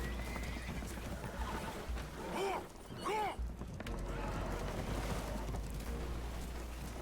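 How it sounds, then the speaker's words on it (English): Spooked horses whinny and neigh twice in quick succession amid a steady low rumble of water and wind aboard a damaged boat in Red Dead Redemption 2, with other ambient noise running throughout. "Horses are spooked"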